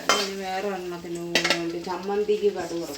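Mustard seeds fry in hot oil while a sambar tempering is made, giving a busy crackling sizzle with scattered sharp pops and light stirring clinks.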